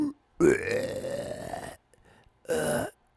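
A voice imitates a long, loud, gravelly burp, then after a brief pause adds a second shorter burp, both close and prominent with no other sound.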